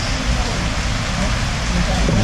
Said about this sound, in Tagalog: So, umuulan pa.